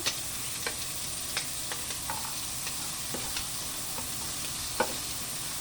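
Garlic frying in a pan, a soft, steady sizzle with scattered light ticks and spoon scrapes spaced through it, close but quiet.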